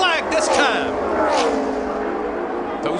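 NASCAR stock cars racing toward the white flag at Talladega, a loud sustained engine roar with a rising pass-by whine, heard under continuous commentary.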